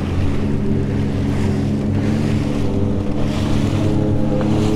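A Sea-Doo jet ski on the Niagara River, a loud steady engine drone mixed with rushing water and wind buffeting the microphone, continuous and close throughout.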